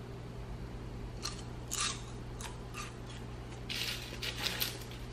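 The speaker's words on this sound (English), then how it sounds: "They're nice and flaky and crunchy, just like regular chips." Baked kale chips crunch and crackle in several short, crisp bursts, close but fairly faint over a low steady hum, with no talking.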